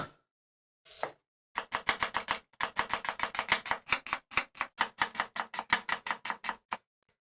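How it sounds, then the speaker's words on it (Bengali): A knife rapidly chops five medium onions on a cutting board, producing a close, loud run of quick, evenly spaced knocks after a couple of opening strikes, with no talking. "মিডিয়াম সাইজের 5টা পেঁয়াজ কেটে নিলাম"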